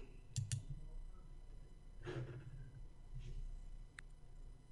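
Single mouse clicks, one near the start and another around four seconds, made while saving a file in ProRealTime 10.3 trading software, faint over low room hum without talk.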